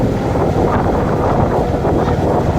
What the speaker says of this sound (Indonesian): atas itu anginnya kencang